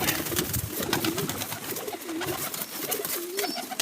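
Pigeons coo with soft, repeated rolling calls over a busy, rustling background, fairly close and overlapping.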